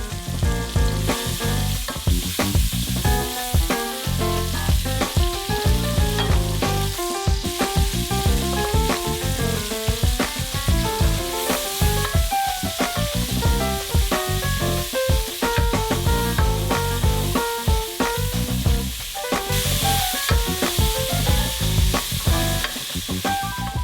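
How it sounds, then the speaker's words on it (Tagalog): Onion and garlic sauté in a pot, a loud, continuous close sizzle and hiss with rhythmic stirring scrapes running through, no voices. "In the same pot, mag-isa kayo ng sibuyas at bawang."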